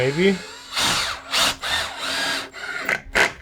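A power drill drives screws into a Prusa MK3S printer enclosure being assembled, giving several short whirring bursts with brief pauses between them, close and moderately loud.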